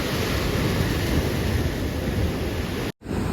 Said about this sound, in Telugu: అలలు చూడండి అసలు ఎలా వస్తున్నాయో